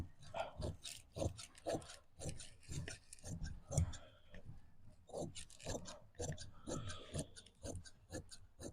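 Scissors cut through pajama cloth along a straight chalk line at a tailor's table, a series of rough rasping snips and rustles in irregular bursts, fairly close, with no talk.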